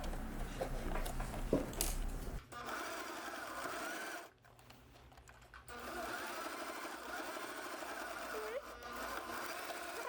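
A domestic sewing machine runs in bursts while stitching a seam, pausing briefly and starting again, with a person talking over parts of it.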